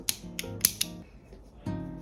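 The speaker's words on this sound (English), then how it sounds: "we can cut off the yarn" A few sharp scissor snips cut through crochet yarn, close up and quiet, with short clicks spaced across a couple of seconds and a faint hum between them.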